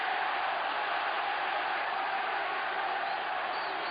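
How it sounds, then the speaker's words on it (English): A big arena crowd roars and cheers in a steady, continuous wash of noise, distant and sustained with no single voice standing out. "Just listen to the crowd."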